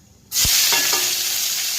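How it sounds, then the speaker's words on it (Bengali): After a moment of quiet, chopped onion and green chilli drop into hot oil and a loud, steady sizzle erupts and keeps going. "এরপরে দিয়ে দেবো পেঁয়াজ আর কাঁচা লঙ্কা কাটা"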